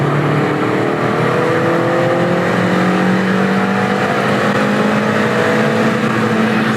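Honda Amaze i-VTEC engine pulling hard through first gear toward its 6700 RPM redline, heard from inside the car as a continuous loud drone whose tones climb steadily, with no talk.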